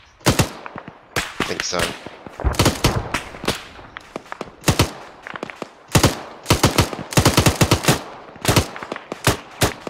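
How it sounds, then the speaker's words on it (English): Rapid bursts of automatic gunfire crack out in a combat scene from the military game Arma, loud repeated volleys and single shots spread across the whole stretch, with a voice briefly speaking between them. "am I hearing shots behind us?"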